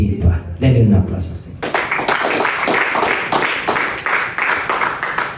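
A church congregation claps together after a Spanish-language sermon, a steady burst of applause following a voice that soon fades under the clapping.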